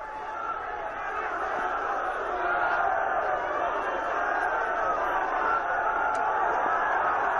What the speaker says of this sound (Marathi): तो जल्लोष, तिथला विजय सोहळा आपण पाहतो आहोत